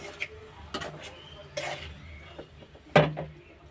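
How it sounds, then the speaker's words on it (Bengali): Masala is stirred and sautéed with fish and eggplant in a pan, heard as intermittent clinks and scrapes of a spoon against metal over a faint sizzle, with one sharper knock near the end; close and moderate in loudness. "এই যে মশলার সাথে মাছ আর বেগুন কষছে একসাথে।"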